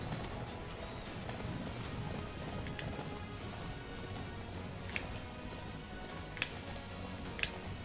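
A horse gallops in the video game Attack on Titan, its hooves drumming as a continuous rapid clip-clop under a steady wash of game ambience, with a few sharp clicks standing out.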